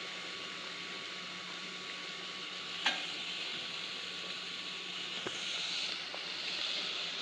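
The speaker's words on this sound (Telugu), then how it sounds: "క్యాప్సికమ్ కూడా వేగిందండి" Beans and yellow capsicum stir-fry in a pan with a soft, even sizzle, faint and steady, broken by a couple of sharp spatula clacks.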